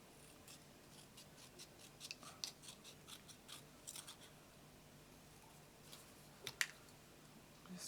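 Scissors snip through 12 x 12 scrapbook paper in a series of quiet, close cuts with short irregular pauses between them, alone in a quiet room.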